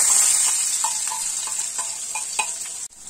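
Garlic and onion frying in hot oil in a kadhai, a steady close sizzle with a series of light scraping stirs at an even rhythm, ending abruptly.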